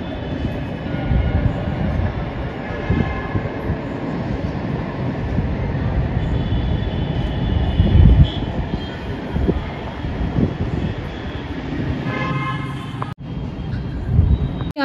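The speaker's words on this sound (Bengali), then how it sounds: "ওই যে মেট্রো যাচ্ছে" A metro train passes by with a sustained low rumble of rolling wheels on rails and a faint rising and falling whine. The sound is fairly loud and fills the scene without talking.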